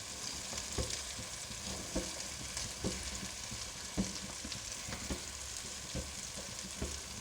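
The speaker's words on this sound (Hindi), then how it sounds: "ये देखिए और हम इस तरीके से इसको मिक्स कर देंगे अच्छे तरीके से" Chopped egg keema being stirred into a sizzling masala in a pan, with steady frying hiss and regular soft scraping strokes of a spoon repeating about once a second.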